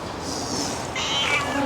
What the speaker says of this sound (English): Gambian cats are very friendly, aren't you?